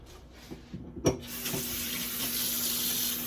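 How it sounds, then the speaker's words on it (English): Water runs from a tap into a vegetable curry pan after a few soft kitchen clicks, settling into a steady, close hiss of pouring and splashing. "I want to add in some water to this"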